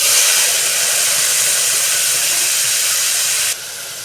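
Chopped onion and tomato sizzling loudly in hot oil in a pan while cooking chow chow kootu, a steady close hiss that drops slightly in level near the end.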